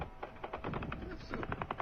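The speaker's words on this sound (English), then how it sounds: "You could hear a hail of gunfire in the background from the Ukrainian side" Rapid bursts of gunfire from Ukrainian air defense shooting at a Shahed drone in the Sumy region, a fast rattling series of shots repeating through the clip, heard at a distance with no voices.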